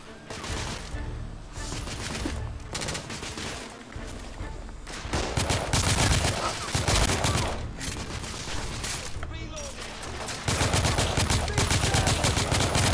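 Sustained gunfire in a Victorian-era shooter game, The Order 1886, with dense overlapping bursts of rifle and machine-gun shots filling the whole stretch, loud and close, growing heavier toward the end.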